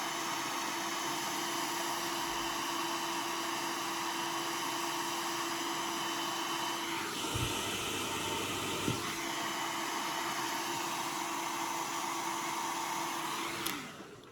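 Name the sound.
hair dryer blow-drying hair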